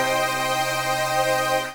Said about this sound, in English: I've just selected this classic PWM polysynth